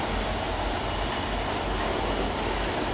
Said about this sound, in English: Here comes Amtrak 74 now.